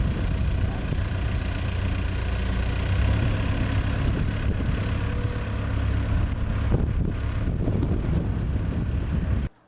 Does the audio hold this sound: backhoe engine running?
yes